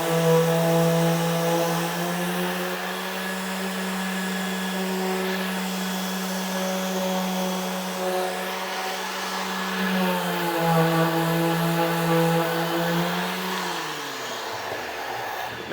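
Power sander running steadily while hooked up to a vacuum during window trim work, a loud droning whine with a stable hum that drops in pitch and winds down near the end, no talk.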